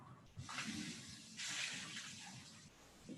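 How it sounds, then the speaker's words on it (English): Lab beaker being washed with soapy water and a brush at a sink, a close hiss of running water with two louder bursts of spray. "So I'm going to wash it with soap and the brush."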